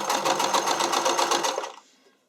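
A sewing machine stitching a flat zig zag hem on spandex for a figure skating or dance costume, a fast, close, rhythmic whir that runs briefly and then winds down to a stop.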